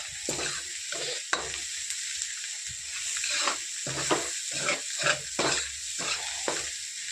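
Salt, chilli and turmeric frying in a pan on a gas stove, a steady bright sizzle broken by repeated stirring scrapes over about seven seconds, with no voices.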